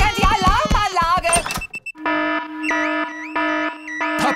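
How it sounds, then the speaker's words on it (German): A cartoon car alarm goes off in an animated children's show, a loud electronic tone repeating in a steady on-off pattern after a short burst of music and voices. "Papa Wutz hat die laute Alarmanlage ausgelöst."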